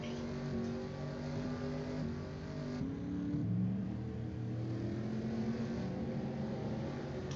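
Race cars lapping Talladega in a racing video game, a steady droning pack of engines whose pitch slides and shifts, one brief lower surge partway through, continuous and fairly distant.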